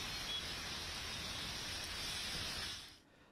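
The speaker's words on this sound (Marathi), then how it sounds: "तर सकाळपासूनच मुंबईमध्ये पावसाचा जोर वाढलेला आहे।" Heavy monsoon rain in Mumbai pours as a dense, steady hiss that holds evenly before dropping away abruptly near the end.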